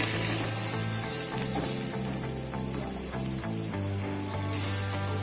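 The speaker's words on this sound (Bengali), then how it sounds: "এবার আলুগুলোকে আমি ভালোভাবে একটু ভেজে নেব।" Potatoes seasoned with turmeric and salt fry in a pan, giving a continuous, even sizzle close by with a faint low hum underneath and no talking.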